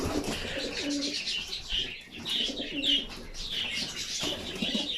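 Homing pigeons coo steadily at close range, overlapping soft murmuring calls with occasional wing flutters and chirps throughout.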